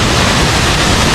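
A monsoon-swollen waterfall at Lumre roars as a loud, steady, broadband wash of rushing water, close and unbroken, with no voices over it.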